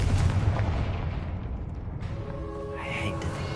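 Fire-spell explosions in the Hogwarts Legacy video game: a heavy boom at the start that rumbles and fades, with faint tonal game effects emerging toward the end.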